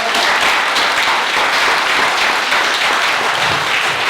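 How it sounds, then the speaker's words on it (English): Dense, steady audience applause fills a theater from start to finish, loud and continuous with no pauses. "I want you guys to clap every time I say somebody's name."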